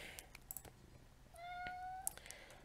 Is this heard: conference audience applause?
no